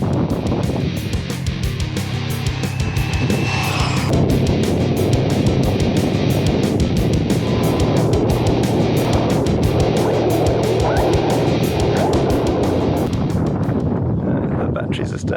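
A Team Corally Radix 6 RC car at full throttle during a speed run outdoors, a loud buzzing electric whine washed with heavy wind rumble and a voice talking over it, fading out at the end.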